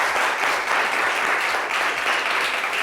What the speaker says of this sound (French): Applaudissez-le bien fort.